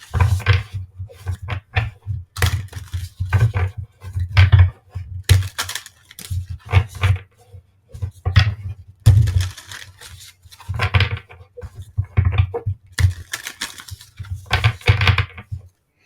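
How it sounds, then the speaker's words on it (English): Repeated crisp riffling and slapping bursts in quick, irregular succession, close up, like a deck of tarot cards being shuffled and tapped on a table. "I'm going to shuffle the cards off camera"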